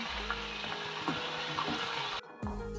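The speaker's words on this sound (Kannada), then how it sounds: "ಕರ್ಬೇವು ಸೊಪ್ಪು ಹಾಕ್ತಾಯಿ ಒಗ್ಗರಣೆಗೆ ಕರ್ಬೇವಿನ ಸೊಪ್ಪು" Curry leaves crackle and sizzle in hot tempering oil, with sputtering pops and a few metallic clinks from the pan, close up and without speech.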